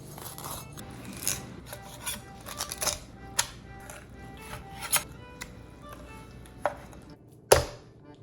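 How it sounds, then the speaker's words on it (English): A knife filleting red drum fish on a cutting surface: irregular scraping and slicing strokes broken by sharp taps and one loud knock, close up with no talk. "now we're gonna fillet the rest of these"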